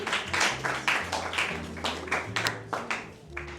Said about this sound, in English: Please, let's clap for them as they go back to their seat.